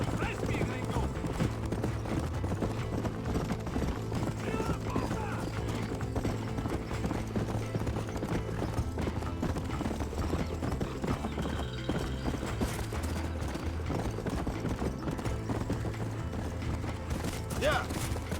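Horse hooves clip-clop in a fast, continuous galloping rhythm through a Red Dead Redemption ride, dense and steady throughout, with occasional whinnies and voices talking over the pounding.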